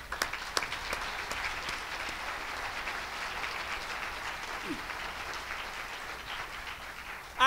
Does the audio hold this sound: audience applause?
yes